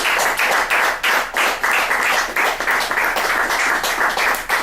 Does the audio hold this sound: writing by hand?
no